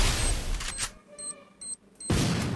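A grenade explosion in the Free Fire battle game, a loud booming blast opening the clip, then a quieter gap with faint tonal game sounds, followed by another loud burst of noise at the end.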